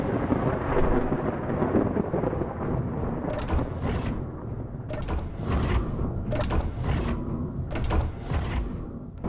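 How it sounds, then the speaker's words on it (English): Thunder from a lightning storm in the survival game Space Engineers rolls loud and heavy, with several sharp cracking bursts in the latter half over a constant low rumble. "Lightning storms have been stupidly dangerous"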